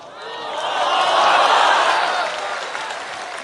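An audience claps during a religious sermon, a broad wash of applause swelling for about a second and a half, then easing off while it continues at a lower level.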